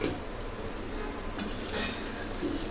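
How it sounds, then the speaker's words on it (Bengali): Masala beef liver bhuna stirred in a hot pan, with a steady close sizzle and spoon scrapes against the metal throughout, getting slightly louder midway. "এখন নেড়ে চেড়ে আরও কিছুক্ষণ"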